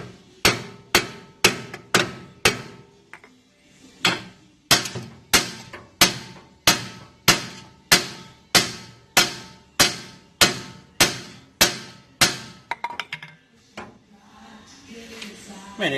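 Heavy hammer blows strike suspension parts on a 1971 Mustang during a teardown: about two dozen sharp metallic hits in a steady, even rhythm, close and loud, then a short lull and some scattered clatter at the end.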